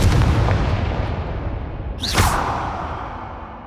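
Confringo fire spell cast in the Hogwarts Legacy video game, a whooshing burst that booms into a fading explosion about halfway through, following a rumbling low background.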